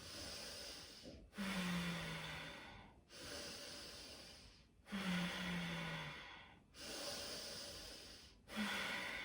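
Slow, deep breaths during a guided breathing exercise: three full, close inhale-and-exhale cycles, each separated by a brief silent pause, with a steady, even rhythm and no talking.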